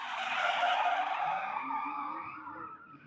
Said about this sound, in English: You want to hear them ripping. And throwing more angle.